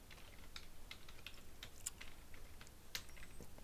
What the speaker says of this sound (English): I'm typing with one hand because I have the microphone in the other